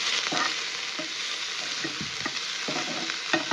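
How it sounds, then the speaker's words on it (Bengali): Garlic, onion and chili frying in a pan, a steady close sizzle with scattered stirring scrapes and clicks, for chingri vorta with prawns; no voices. "সেই রসুনটা আমি দিয়ে দেবো একটু ভাজার জন্য। এটা একটু ভালো করে ভেজে নেব।"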